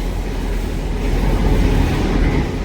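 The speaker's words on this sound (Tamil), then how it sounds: "இன்னொரு லோக்கல் ட்ரெயின் ஒன்று வந்து ஒன்று இருக்குது." A local train runs at a railway station on the reopened Jaffna rail service, a loud, close, continuous rumble of wheels and carriages with a steady low roar throughout.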